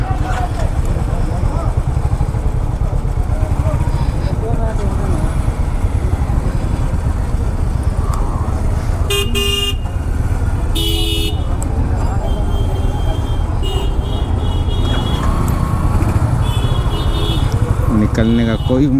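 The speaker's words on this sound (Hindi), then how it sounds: "गजब का ट्रैफिक।" Dense, heavy street traffic in Patna, with a steady roar of motorbikes, cars and rickshaws and repeated horn toots and honks over continuous noise, while someone talks throughout.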